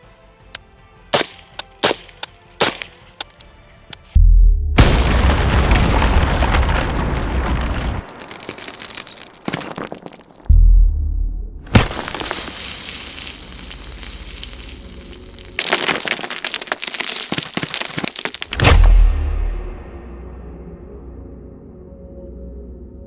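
Rounds of military ammunition are fired through a cinder block wall outdoors: several sharp, loud gunshot cracks, first a quick string of lighter reports, then heavy blasts with long rumbling tails, alone with no talk.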